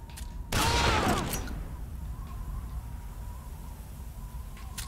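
Gunfire from the video game Metal Gear Solid 3: Snake Eater comes as one loud, sharp burst of shots near the start, fading into quiet in-game ambience.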